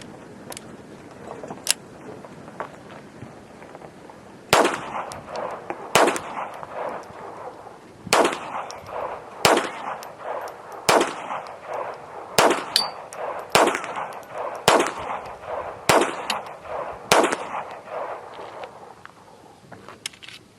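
A .22 rifle fires Federal Target Match ammunition: ten sharp, loud reports spaced roughly evenly, with an outdoor echo tail after each, and no talking.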